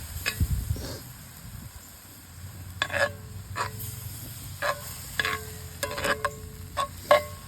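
Milk gravy cooks down in a pan over a campfire with a soft, low bubbling hiss, while a utensil scrapes and clicks against the pan in irregular, sharp taps.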